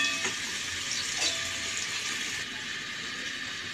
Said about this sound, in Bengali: আমি লাল লাল করে ভেজে নেব ফোড়নটা।